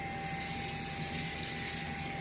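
Water pouring into a small pan holding a cup of jasmine rice, a steady broadband gush running continuously and evenly for a couple of seconds at moderate level, with no talking.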